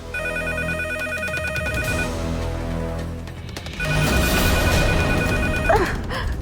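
Landline telephone ringing loud and close in repeated electronic trills, a first burst followed by a brief pause and then a second ring with some clatter near the end.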